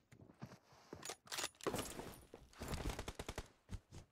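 Gunfire in PUBG Mobile comes as faint, uneven bursts of shots, some in quick clusters, scattered across a quiet background.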